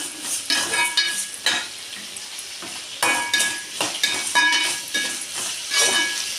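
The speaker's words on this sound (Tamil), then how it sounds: "இப்போ நல்லா இதை கிண்டிக்கலாம்" Eggplant curry is stirred in a pan with turmeric and salt, giving repeated scraping and clattering strokes in bursts over a steady soft sizzle, close and fairly loud, with no talk.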